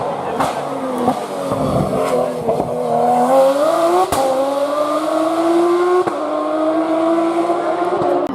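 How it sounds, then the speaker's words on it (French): Renault DRS race car climbing the Turckheim–Trois-Épis hill climb, its engine revving hard and rising in pitch through gear changes, loud and close under an announcer's commentary. "c'est Jeff Ganva avec la Renault DRS. Avec sa boîte de vitesse"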